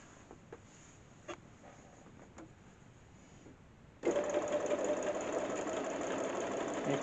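Sewing machine doing free-motion quilting: a few faint clicks and isolated stitches, then a sudden loud, steady whirring run of rapid stitching close up, continuing to the end.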